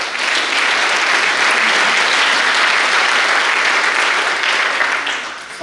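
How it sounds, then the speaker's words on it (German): Sustained audience applause fills a ceremony hall at a tenth-anniversary celebration of a research association, a dense, steady wash of many hands clapping that holds loud throughout and eases slightly toward the end. "Applaus"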